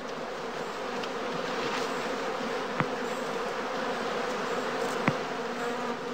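Honeybees swarming around a straw skep hive at a heathland apiary, a dense steady buzzing drone close by, with a couple of faint clicks over it.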